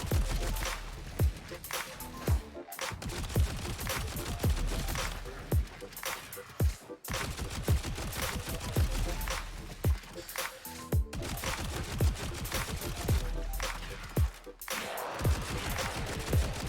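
Rapid gunfire from the STUG pistol in a video game crackles in dense, continuous bursts broken by brief gaps, loud and steady throughout.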